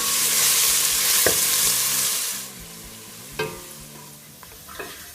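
Diced onion frying over medium heat in rapeseed oil, a loud close sizzle with a few stirring scrapes that settles into a quieter crackle partway through.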